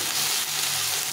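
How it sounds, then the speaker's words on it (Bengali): Chicken fries in oil in a pan with a dense, steady sizzle heard up close for a moment, with no talk. "এটাকে ভালো করে ভেজে নিতে হবে।"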